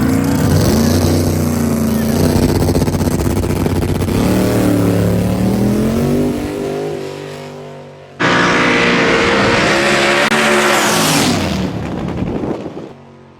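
Turbocharged and ProCharger-supercharged small-tire drag race cars launch and roar down the strip in a loud, sustained engine blast. The first run fades away, then a second loud pass cuts in and fades toward the end.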